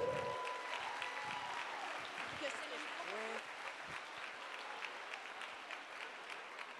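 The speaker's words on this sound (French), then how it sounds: "Vous pouvez l'applaudir." An audience applauds steadily at a women's evening event in French-speaking Quebec, the clapping dense and continuous throughout, with a brief voice and a few tonal sounds rising above it.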